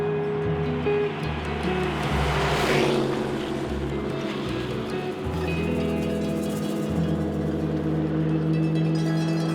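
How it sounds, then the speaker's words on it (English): A 1935 Bugatti Type 57 SC Electron Torpedo with an all-magnesium body is driven on the Colorado Grand vintage car rally. Its engine drones steadily nearby with shifting pitch as it revs and changes gear, under a wash of wind and road noise. "this is a 1935 Bugatti Type 57 SC called the Electron Torpedo, which is an all magnesium body"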